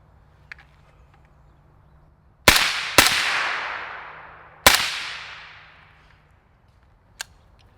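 Three sharp, loud gunshots from a Black Anchor Tactical Nautilus 556 rifle, each cracking out and then echoing away in a long decaying tail, two close together and then a third after a short pause, with a faint click near the end.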